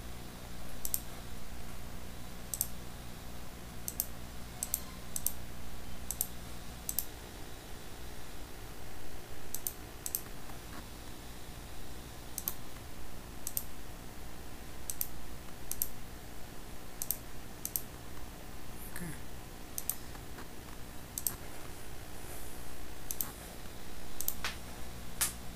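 Computer mouse clicking during a Salesforce reports and dashboards tutorial: sharp, sparse clicks scattered irregularly over a steady low hum, close but quiet, with no speech.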